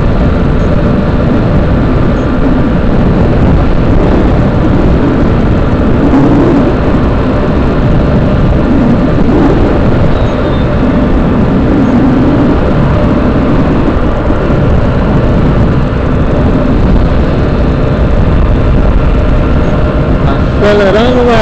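A car accelerates hard at high speed on the Fernão Dias highway in windy conditions, producing a loud, constant engine and wind roar throughout, with a voice talking over it.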